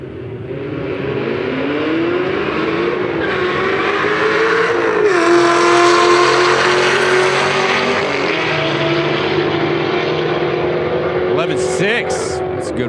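Loud drag racing at a car show event, with a supercharged Camaro roaring down the strip alongside an Audi, engine pitch sweeping through gear changes amid crowd chatter and people talking nearby.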